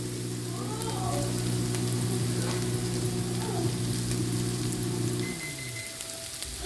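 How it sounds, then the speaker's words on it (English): Sliced garlic dropped into a pan of sizzling mirepoix for a meat pie, a steady crackling fry with some stirring that fades near the end, no talk. "now we're gonna go in with this sliced garlic"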